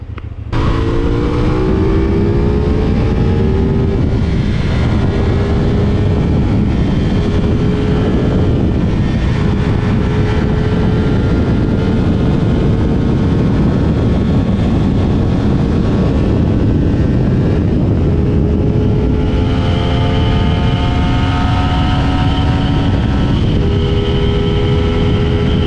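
A 2023 CFMOTO 450SR sportbike with a 450cc parallel-twin engine, ridden hard with a loud, continuous engine drone that climbs and falls through the gears, plus heavy wind roar throughout.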